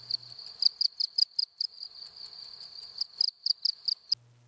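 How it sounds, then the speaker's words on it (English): A cricket sings a close, fast run of bright, evenly pulsed chirps for about four seconds, cut off abruptly at the end, with a low steady hum at the edges. "Cricket. The cricket is singing."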